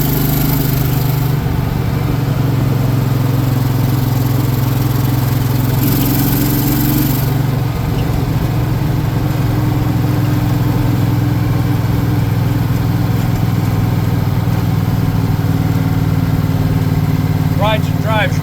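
A 1977 Cushman Truckster's small engine drones steadily as it climbs a hill, loud and close throughout, with a brief higher surge partway through and a voice talking over the motor.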